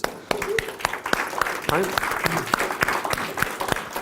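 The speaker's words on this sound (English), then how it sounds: "Let's give him a round of applause." Live audience applauding a coaching client at a seminar, steady clapping throughout with a voice speaking briefly over it.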